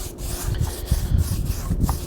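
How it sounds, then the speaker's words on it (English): Rhythmic brush strokes applying sanding sealer across pine wood, a close scratchy rubbing repeated several times in quick succession, with no talking. "I put my sanding sealer on."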